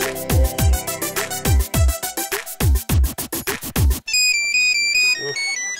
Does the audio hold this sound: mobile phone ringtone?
yes